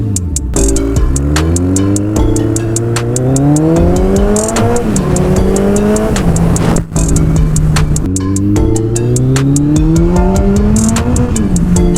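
A Kawasaki ZX14R motorcycle engine revs hard and accelerates repeatedly on a speed run, pitch climbing through several gear sweeps with brief dips between shifts, loud and close throughout.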